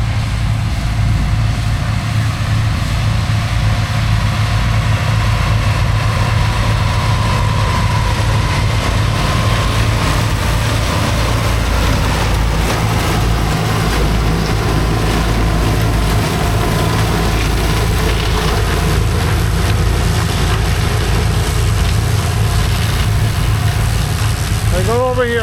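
A tractor engine runs during a silage harvest in Duagh, a loud continuous low drone with a steady throb that holds throughout, with some mechanical hum layered on top.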